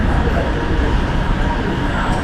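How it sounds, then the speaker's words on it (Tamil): An airport terminal train arrives in a steady, loud rumble of rolling wheels and motor noise, with a busy indoor ambience and people talking faintly. "நம்ம போக வேண்டியது டெர்மினல் டூ ட்ரெயின் வந்துருச்சு"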